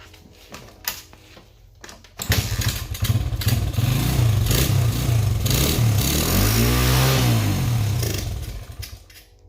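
A 1996 Honda XR100R dirt bike engine fires up after a carburetor install, popping at first and then running loud and close with a rough, rapid putter and some revving before it fades off.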